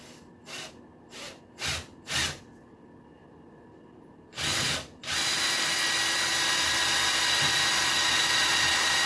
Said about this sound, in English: step one is going to be to drill a hole to go around this boss here. So we're going to go get my step drill